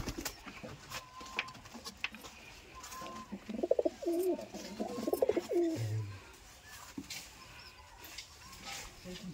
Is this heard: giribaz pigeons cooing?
yes